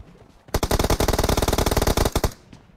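A loud, close burst of rapid automatic gunfire in the Free Fire mobile game, roughly two seconds of evenly spaced shots against a quiet background.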